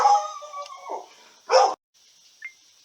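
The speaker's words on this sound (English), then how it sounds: "My apologies, the dog barked." Pet dog indoors giving a few sharp barks and yips, loud and close, with short gaps of quiet in between.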